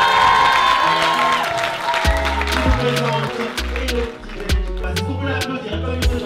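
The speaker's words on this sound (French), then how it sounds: "Vous pouvez l'applaudir" Applause at an award ceremony for African entrepreneurs greets a finalist as he is called up, clapping mixed with loud music and a host's voice talking over it.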